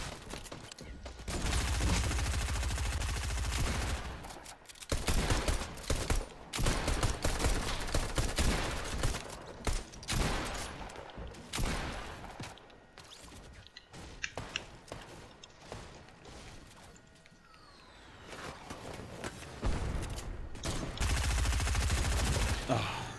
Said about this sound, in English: These are fucking snipers.